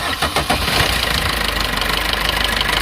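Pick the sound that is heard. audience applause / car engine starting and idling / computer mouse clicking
car engine starting and idling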